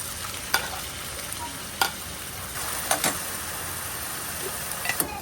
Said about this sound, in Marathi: कांदा आता अर्धा भाजत आलाय